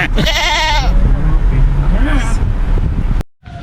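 A goat bleats loudly in a wavering, quavering call near the start, followed by voices talking over low rumbling background noise.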